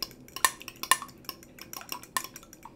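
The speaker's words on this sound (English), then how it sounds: "So I'm just gonna beat them lightly like this." Two eggs and half a cup of milk are lightly beaten in a bowl, giving quick, irregular clinks and taps of a utensil against the bowl at close range.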